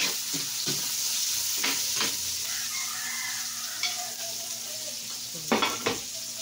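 Tofu and pork stir-fry in a pan with a steady sizzle, broken by a few scraping stirs and clinks of a utensil against the pan.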